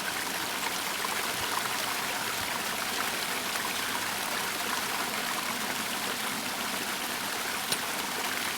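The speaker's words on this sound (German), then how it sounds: "Bisschen duschen" Shower running in the video game The Longing: a continuous, even hiss of streaming water that holds steady throughout at moderate loudness, heard alone.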